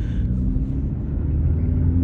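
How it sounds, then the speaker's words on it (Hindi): A Maruti Suzuki Swift VXI AMT hatchback's engine pulls away in drive mode, giving a steady, close, low cabin rumble with a faint hum throughout. "अभी ड्राइव मोड पे हमने डाल दिया इसको, इसका लैग चेक करते हैं क्या है।"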